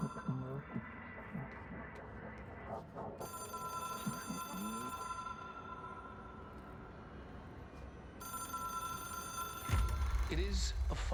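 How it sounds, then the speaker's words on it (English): A telephone rings repeatedly inside the video game Control, a steady electronic bell pattern over a low ambient hum. It continues under faint game background sounds until a louder rumble cuts in near the end. "I can hear the phone."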